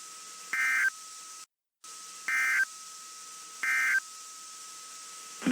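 A NOAA Weather Radio public warning system test signal: three short, bright beeps spaced about a second and a half apart over a steady electronic tone, with a brief silent dropout between the first and second beep.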